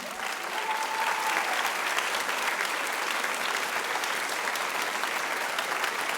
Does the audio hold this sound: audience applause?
yes